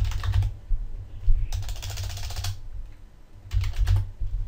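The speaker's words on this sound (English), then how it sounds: "I'm gonna type in Apple and iPhone" Bursts of typing on a computer keyboard, quick clustered key clicks in three separate runs with short pauses between, close and clear over a steady low hum.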